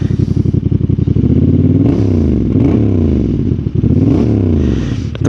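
A Honda CB750 Hornet with a 755cc parallel twin and 270-degree crank cranks and fires up, then revs loudly and close in several rising and falling blips before settling into a throbbing idle.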